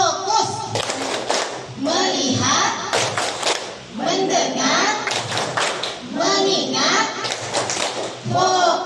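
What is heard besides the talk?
rhythmic group clapping routine (tepuk fokus)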